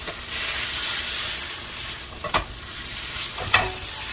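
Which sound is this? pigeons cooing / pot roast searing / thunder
pot roast searing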